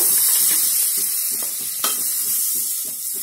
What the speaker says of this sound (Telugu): దీన్ని స్టవ్ ఆన్ చేసుకొని మనకు కావాల్సినంత బటర్ వేసుకోవాలన్నమాట